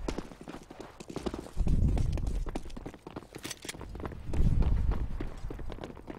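Hooves of a horse clip-clop at a galloping pace in a video game, a steady rhythmic patter that swells louder twice, with faint voices murmuring underneath.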